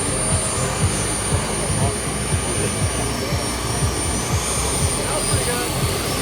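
A steady, loud jet engine whine roars throughout, with a constant high whistle and rumble, as a model F-22 jet passes close overhead at an RC jet event.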